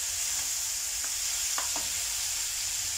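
Mushrooms simmering in a pan, a constant bright sizzle with a few soft stirring scrapes partway through.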